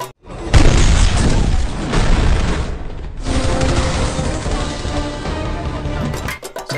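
Gunfire and explosions from The Expendables, a dense loud barrage of booming blasts and shots rolling continuously, briefly dipping near the middle before surging again.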